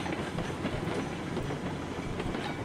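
Cook Consolidation steam locomotive in RailRoads Online rolls along the track with a steady rumbling clickety-clack and a faint hiss, continuous and fairly quiet.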